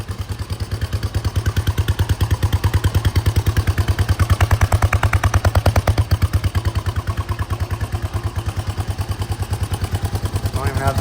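A Suzuki GN125 motorcycle single-cylinder engine fires up and runs steadily at idle, a close, loud, even thumping pulse with mechanical clatter throughout, no throttle connected.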